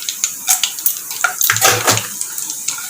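Peanuts fry in hot oil in a pan for coconut rice, giving a close, busy sizzle scattered with sharp crackles and pops.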